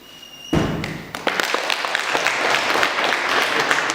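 An audience at a World Poetry Day event bursts into sustained clapping after a sharp thump, the applause swelling and continuing steadily.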